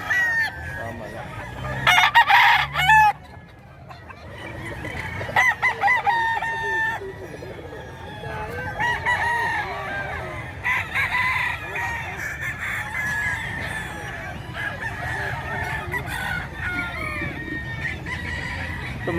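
Fighting roosters at a market in Bocaue, Bulacan, crowing repeatedly and overlapping at different distances amid clucking and a busy background, with people talking now and then.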